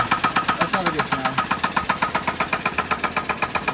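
A car engine with a spun rod bearing knocks in a steady, fast metallic rhythm while idling, loud and close throughout, with a few indistinct voices faintly underneath.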